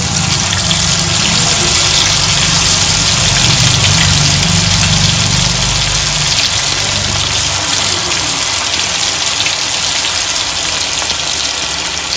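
Chicken pieces hit hot coconut oil and fry with a loud, continuous, dense sizzle and hiss that holds steady close by throughout.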